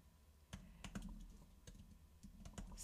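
Keys clack on a computer keyboard as a command is typed into a terminal, a few quick separate bursts of clicks with short pauses between them, close and quiet, no talking.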